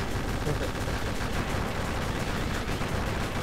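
Continuous rapid gunfire in the GundeadliGne video game while shooting at a missile, a dense unbroken rattle of shots at steady loudness with faint talk beneath.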